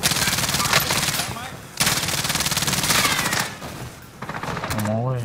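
Rapid automatic gunfire bursts loud and close in a video game shooter, several long volleys separated by short pauses, with a brief voice partway through.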